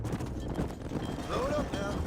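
Horse hooves clip-clop in a Red Dead Redemption game, a quick run of hoof beats heard alongside a short rising tonal call and what sounds like a voice.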